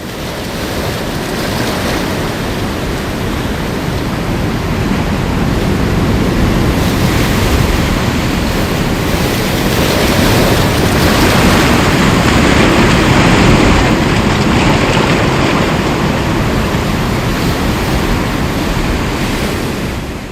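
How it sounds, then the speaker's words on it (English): Breaking ocean waves and rushing surf roar steadily and loudly close by, a dense wash of broken water with gentle surges in strength and no voices. "the rushing, broken water pushes you forward"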